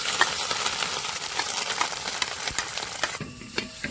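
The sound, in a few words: grated coconut frying in hot ghee in an uruli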